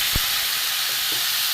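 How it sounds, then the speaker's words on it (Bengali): Water splashed into a pan of spice masala frying over a lowered gas flame for a potol, potato and hilsa curry gives a steady broadband sizzling hiss with a brief low thump near the start, close and fairly loud, no talk. "মশলাটা পুড়ে যাচ্ছিলো বলে অল্প একটু জল দিয়ে দিয়েছি।"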